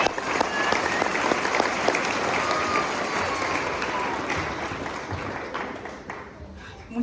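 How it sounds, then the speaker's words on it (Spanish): A church congregation applauds steadily during a Spanish-language service, a broad wash of many hands clapping at moderate volume that holds evenly and tapers slightly near the end. "denle un fuerte aplauso al Señor"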